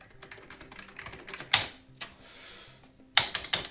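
Keys clatter on an Amiga 500 Plus keyboard in rapid uneven presses, with a few louder, heavier strikes standing out, close up in a quiet room.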